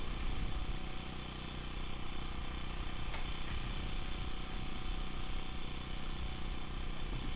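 Blue Betty, an old tractor, runs steadily after starting up, its engine a loud continuous rumble with a rough, chugging texture close by, no talking over it.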